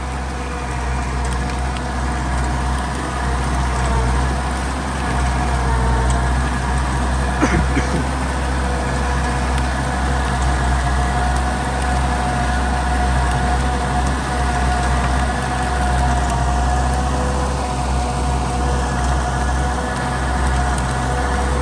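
A 60 hp turbo tracked rice-field tractor runs steadily with a constant low engine drone, loud and close, holding an even idle-like rumble throughout with no clear changes in pitch.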